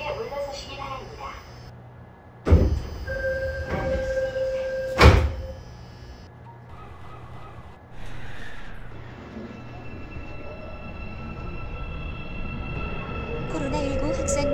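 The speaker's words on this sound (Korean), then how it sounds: "출입문 닫습니다. 출입문 닫습니다." Seoul subway Line 4 train car with doors sliding shut and a thud, then the train running steadily with a low rumble and hum, while an automated announcement voice plays.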